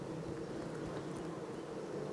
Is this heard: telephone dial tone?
no